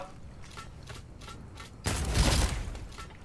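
Several faint shots pop in a loose rhythm, then a loud burst of rapid gunfire with a booming rumble, from combat in the video game Naraka.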